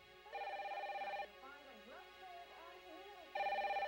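Telephone ringing unanswered at the home of an elderly couple: two bursts of electronic ring tones at a steady level, separated by a gap where other tonal sounds are heard, with no one picking up.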